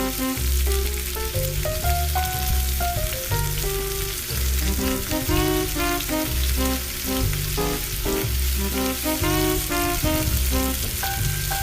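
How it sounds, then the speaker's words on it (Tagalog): Onions sizzle loudly in hot oil as they are sautéed for pancit bihon, a steady crackling fry with occasional stirring and some music playing underneath. "pwede na mag-umpisa maggisa mga karaki. Maggisa na tayo mga karaki. Una ang sibuyas."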